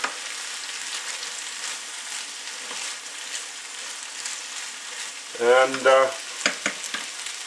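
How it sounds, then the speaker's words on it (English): A stir fry sizzles steadily in a hot pan while being stirred, with louder scraping and clattering bursts of the utensil near the end and a brief voice over the frying. "I'm going to stir this up a little bit."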